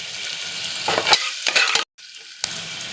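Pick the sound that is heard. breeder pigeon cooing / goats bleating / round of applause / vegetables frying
vegetables frying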